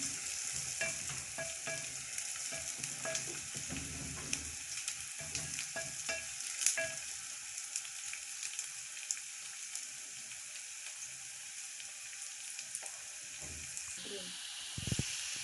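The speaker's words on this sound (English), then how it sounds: "We'll fry them till they become golden brown" Ingredients for chicken biryani frying in hot oil until golden brown, a steady close sizzle and hiss running throughout with occasional stirring scrapes and small pops.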